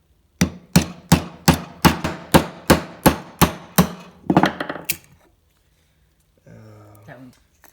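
Sharp, rhythmic knocks of wood being struck and split, about a dozen evenly spaced impacts, then a brief cluster of cracking before quiet and a short low rumble.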